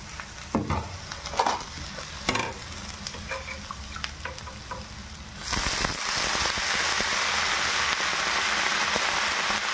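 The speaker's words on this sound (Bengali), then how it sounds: "এবার পালং শাকটা দিয়ে একটু নেড়ে চেড়ে এটাকে আমরা ঢেকে রেখে দেব।" Spinach and sautéed vegetables sizzle in a hot pan with a few scraping stirs early on, then a louder, steady frying hiss takes over once the greens go in.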